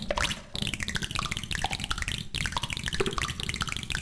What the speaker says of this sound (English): It sounds like dropping, water drops almost sometimes.